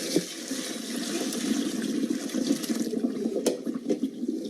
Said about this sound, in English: strain them so that I can later blend them